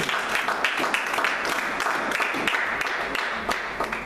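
Applause from a church congregation, steady and close, with dense clapping filling the whole stretch without any speech over it.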